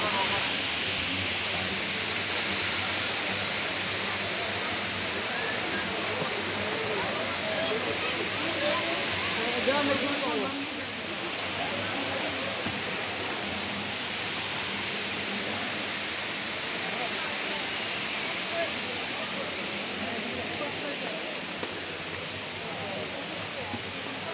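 A fountain splashes into a small lake of blue water at the Rock Garden in Chandigarh, making a continuous, dense rushing hiss that stays steady and fairly close throughout.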